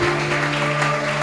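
Church congregation applauding during a French-language service, a dense, continuous patter of many hands clapping together at close range, with a low steady hum underneath.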